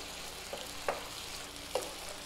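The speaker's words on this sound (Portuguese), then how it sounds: "Aí a gente então vai refogar esse bacalhau" Salt cod (bacalhau) sautéing in a pan gives a steady, soft sizzle, with a few brief clinks or stirring knocks rising above it. The sound is faint and close.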